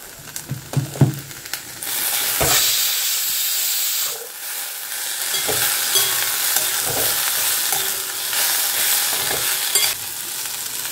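A fish-oil curry fries in a pan with turmeric and salt, giving a loud continuous sizzle and hiss, with scraping stirs and a few clinks near the start and again midway.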